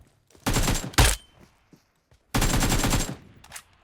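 Rapid automatic gunfire in the mobile battle royale game PUBG Mobile, two dense bursts with a short gap between them, loud and close, with no talk over them.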